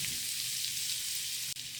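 Diced onions sizzle steadily in a hot pan while being stirred, a close, even frying hiss that runs throughout with one brief sharp click near the end.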